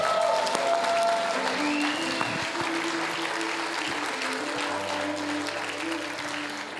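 A church congregation applauds in sustained, dense clapping that fills the room, with scattered voices and cheers mixed in and an organ or keyboard tone lingering underneath.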